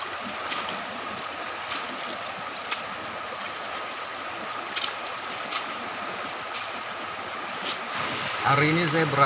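Flowing water of the Kali Alas river where gold is panned, a steady rushing wash with scattered small splashes and knocks, and a voice briefly heard near the end.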